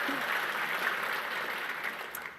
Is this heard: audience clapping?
yes